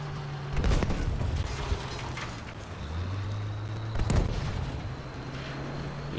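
Gunfire and blasts in the video game Battlefield 5, two heavy booming shots a few seconds apart over a constant low engine rumble and battlefield noise.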